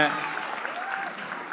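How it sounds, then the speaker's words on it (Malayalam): An audience applauds the Jingle Bells team at a team introduction event. The clapping is a soft, diffuse, steady patter with a voice faintly mixed in. "ഇവർക്കെല്ലാവർക്കും ഒരു വലിയൊരു കയ്യടിയും താങ്ക് യു വെരി മച്ച്"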